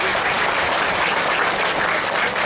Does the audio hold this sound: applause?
yes